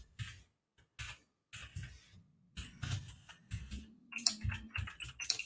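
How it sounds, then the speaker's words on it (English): One-handed typing on a computer keyboard during kanji practice, with irregular bursts of clicking keystrokes separated by short pauses and growing denser toward the end, with a faint voice briefly underneath. "one-handed typing"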